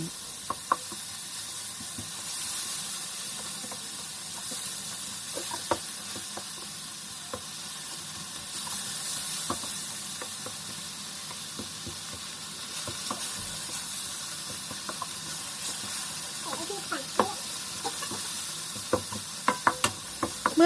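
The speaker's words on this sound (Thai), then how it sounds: "เราจะผัดกะปิไปก่อนค่ะกะปิจะได้มีความหอมมากขึ้น" Steady sizzling of shrimp paste frying in a hot pan, with occasional scraping clicks from stirring; continuous, close, and no voices.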